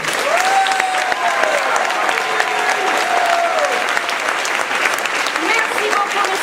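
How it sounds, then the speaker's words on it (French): Loud, sustained applause from a theatre audience in Chartres for the cast of L'Amant Virtuel at an open-air summer festival, steady dense clapping filling the whole stretch with crowd noise underneath and a faint tonal whistle-like line drifting through. "Messieurs, dames, dans le rôle de Élodie, un tonnerre d'applaudissements, Irina Georgiev."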